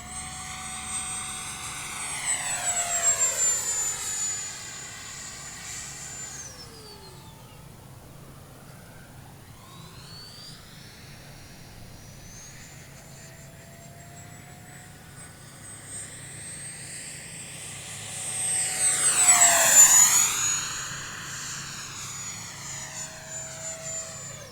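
An E-flite Viper 64mm EDF model jet flies overhead, its ducted-fan whine rising and falling in pitch as it makes two loud close passes and fades between them, with no voices.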